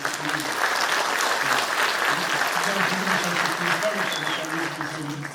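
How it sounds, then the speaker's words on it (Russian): Sustained audience applause at a children's brass band concert, dense and fairly loud from start to finish, with some murmuring voices mixed into the clapping. "Я думаю, что это тоже стоит таких аплодисментов."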